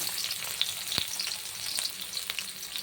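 Chopped onions hit hot oil for an egg paratha filling, giving a brief close sizzle with scattered sharp crackles and one louder pop, and no speech.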